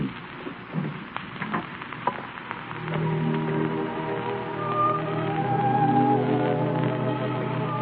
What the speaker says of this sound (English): It's raining. It's raining awfully hard.